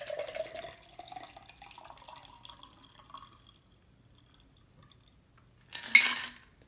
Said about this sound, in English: let me strain into my highball glass